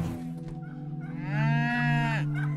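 A cow moos in an animated film: one long, drawn-out, close call that swells louder toward the end, with no voices over it.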